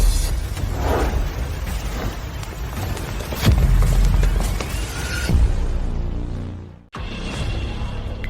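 Deep booming blasts erupt twice amid a roaring rumble, then the sound abruptly cuts out before a noisy bed of debris and rumble resumes.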